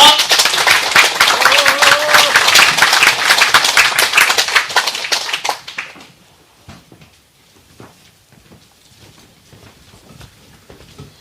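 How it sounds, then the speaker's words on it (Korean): A seminar audience gives dense, loud applause for about five seconds, then it thins out to scattered single claps and quiet room sounds. "뜨거운 박수 모시겠습니다"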